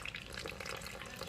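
Water poured steadily into frybread dough in a bowl, a soft continuous trickle and splash heard close up without any talking over it.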